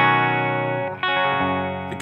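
Clean electric guitar tone from a Gibson Les Paul played into a Fuchs Overdrive Supreme amp: a sustained chord rings out, then a second chord is struck and left to ring, loud and alone.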